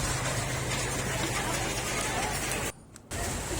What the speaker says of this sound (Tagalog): So lumakas na po yung ulan